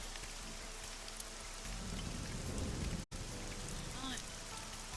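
Steady rain falls all day on an outdoor street scene, a continuous dense hiss of drops with a brief dropout midway, the patter slightly heavier in the second half.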